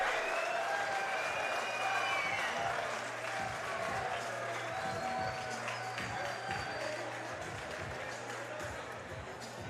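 A boxing crowd applauds and cheers at the end of round two of a professional bout, a continuous wash of clapping under a commentator's voice that slowly fades.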